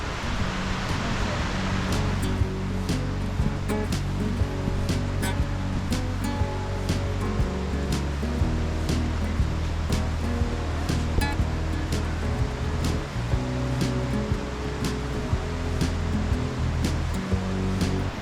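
Waterfalls at Nacedero del Urederra in Navarra give a steady, loud rush of falling water throughout, with faint voices and a bit of low music now and then under the constant roar.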